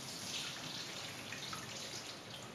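Drained fat from cooked mince is poured away, giving a steady, quiet liquid trickle and splash that runs the whole time without talk.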